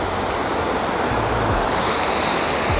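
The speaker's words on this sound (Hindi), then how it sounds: "वसुधारा फॉल्स ऊपर से पानी आ रहा है" Vasudhara waterfall near Badrinath pours down in a steady, heavy roar of falling and splashing water, dense and continuous at close range, like a drenching spray hitting everything nearby.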